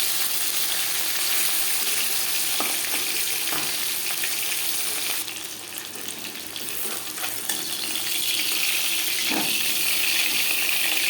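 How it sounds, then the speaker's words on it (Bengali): Hilsa fish pieces frying lightly in hot oil, a steady loud sizzle running throughout with a brief hiss surge midway and a few scrapes of turning, no voices. "ইলিশ মাছ হালকা করে ভেজে নেব।"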